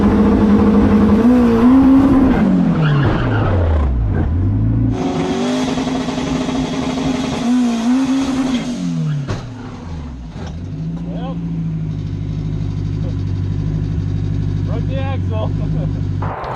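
A 600 HP Honda-powered Smart car on a street pull revs hard, its engine note climbing and falling through several loud sweeping pulls and shifts, close and dominant, with a brief voice buried in the roar.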